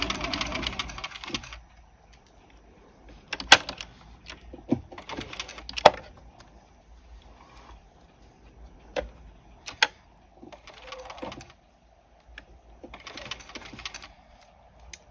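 A sewing machine stitches a collar seam up to the corner in short bursts of whirring separated by quiet gaps, with a few sharp clicks and taps in between, nearby and fairly soft.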